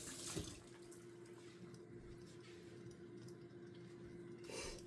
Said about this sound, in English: Washing my hands, not going to confuse you guys.